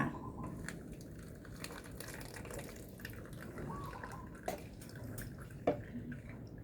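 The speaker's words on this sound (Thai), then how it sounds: "นี่ค่ะเครื่องกรอง คุณยายนะคะ เราก็กรองเลยค่ะ" Homemade liquid plant fertilizer poured through a filter, giving soft trickling and occasional drips with faint crinkling, close and fairly quiet, and no speech.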